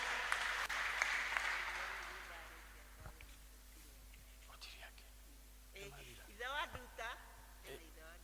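At a Kikuyu-language Choir Sunday church service, the congregation applauds for about two and a half seconds. The clapping tapers off, leaving faint voices, and then a speaker talks over a low background hum.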